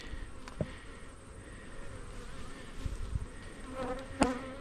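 Honey bees buzz continuously around a backyard beehive, a close, steady insect drone with a few louder passes as individual bees fly near.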